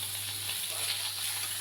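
Kokila ilish fish fry in a little oil in a kadai, with a steady, close hiss and crackle of sizzling that holds evenly throughout, with no voices.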